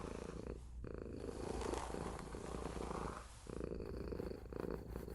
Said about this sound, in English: And listen, you're even purring.